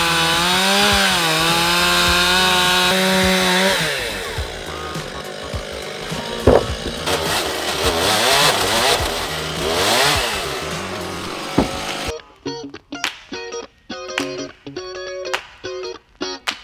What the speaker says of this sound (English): Finally got cut through it. I sharpened the chainsaw like 3 times to get through.